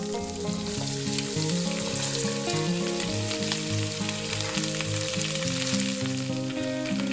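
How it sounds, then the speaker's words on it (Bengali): Vegetables, freshly picked from the garden, fry in olive oil with panch phoron, giving a loud, close, unbroken sizzle with light stirring throughout and no speech. "হালকা করে পাঁচ ফোড়ন দিয়েছি একটু অলিভ অয়েল দিয়েছি"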